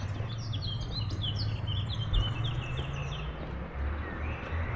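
Small birds chirp and trill in quick bursts atop the ancient city wall of Pisa, fairly faint over a low outdoor rumble, with the song fading after the first few seconds.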